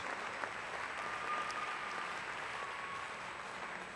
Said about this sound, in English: Put your hands together for Miss Chapel Hill, Chesley Christ.